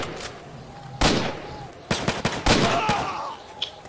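Gunfire from enemy soldiers in the Z.O.N.A video game, a series of sharp bursts and single shots spread across a few seconds, fairly close and loud against a quiet background.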